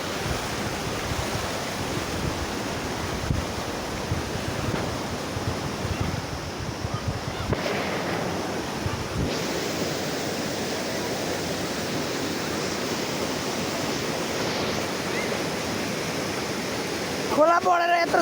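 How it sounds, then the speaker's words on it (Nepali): A swollen Pakhar khola river rushes loudly and continuously, a dense roaring wash of water, with a voice briefly heard near the end. "खोला बढेर यत्रो छ केटा"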